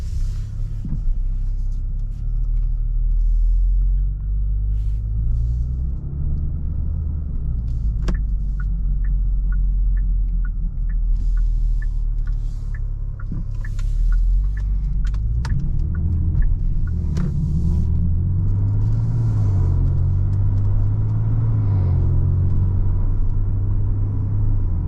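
A tuned 2023 Genesis G70 with a 3.3-litre twin-turbocharged V6, heard from inside while driving: a steady deep engine drone with rising and falling rumble, plus faint ticks and clicks.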